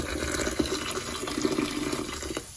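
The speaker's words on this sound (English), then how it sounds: "I'm going to add some more water." Water pours steadily into a baking soda bath used for cleaning tarnished silver, a continuous splashing, bubbling rush close by with no talk.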